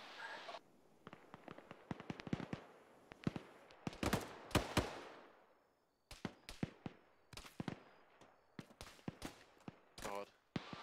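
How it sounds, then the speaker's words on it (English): Bursts of rapid gunfire and single shots in the ArmA 3 military shooter, crackling in dense clusters with brief gaps, some sharp and close, others more distant. "I hear some gunfire coming from the east"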